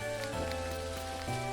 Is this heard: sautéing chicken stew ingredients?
no